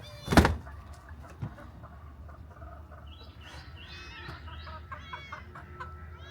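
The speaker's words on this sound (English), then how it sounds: "I see the chickens out here." Chickens cluck and murmur in a yard in a string of short, fairly faint calls, following a sharp knock near the start.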